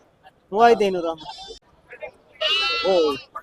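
Sheep lambs bleat loudly at a livestock market, with two distinct wavering cries close by, separated by a short pause.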